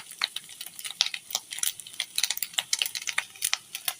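Fish eggs frying in a pan, a close crackling sizzle of irregular sharp pops and spits over about four seconds, steady and fairly quiet, with no talk.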